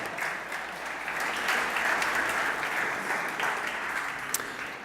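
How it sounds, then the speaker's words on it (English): A crowd applauds continuously at a brewery startup competition's winner announcement, a dense patter of many hands clapping at once, steady and fairly close throughout. "A big round of applause for everyone that joined today."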